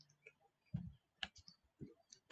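Computer keyboard typing, a sparse run of quiet, irregular key clicks with short pauses between them and no talking.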